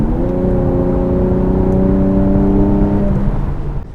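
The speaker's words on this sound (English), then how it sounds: "Get some of the little burbles and bobbles and pops out of the exhaust there as well." A 2019 Mercedes E53 AMG in performance mode revs its exhaust in a loud, smooth rising whir that holds for about three seconds before easing off, heard close with no voices.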